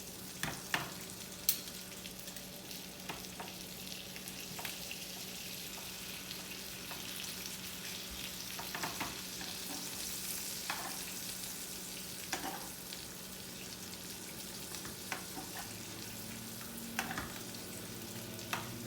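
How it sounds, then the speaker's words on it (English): A steak sizzles steadily in a hot pan while being basted, a dense continuous frying hiss broken by occasional spoon scrapes and stirring clicks, with no voices. "So you just want to keep basting your steak."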